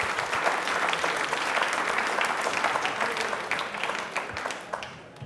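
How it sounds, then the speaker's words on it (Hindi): A studio audience at a televised quiz program for Ambedkar Jayanti applauds for a child, a steady, full burst of many hands that holds for several seconds and then eases slightly at the end. "एक बार बच्चे के लिए तालियां जोरदार बनती है।"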